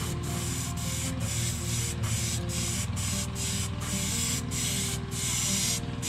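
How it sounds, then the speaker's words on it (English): An airbrush set to about 20 PSI hisses steadily as it sprays paint onto a carved wooden black crappie fish, with regular brief breaks in the spray and no talking. "Got my airbrush set at about"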